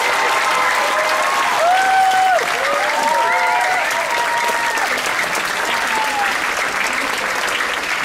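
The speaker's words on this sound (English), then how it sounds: "give this amazing team another big round of applause" A dining room crowd aboard the cruise ship Odyssey of the Seas applauds the food team at a formal dinner, a dense, even wash of clapping with a few raised voices cutting through.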